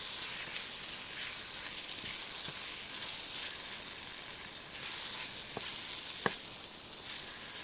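Eggplant and bell pepper fry in corn oil in a pan, giving a steady, close high sizzle with a few faint clicks of stirring.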